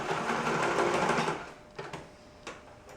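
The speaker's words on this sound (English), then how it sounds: "When you get to the last heart on one of your chains, go ahead and just stitch right through it" A sewing machine stitching through the last paper heart of a chain for a heart wall mobile, a close steady motor whir for over a second, then a few separate clicks and taps as it stops.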